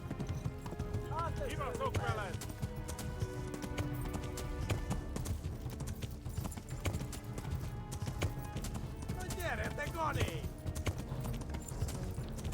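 Rhythmic hoofbeats of a galloping horse in the video game Kingdom Come: Deliverance, quick steady clip-clop running throughout, with a couple of brief whinnies breaking in.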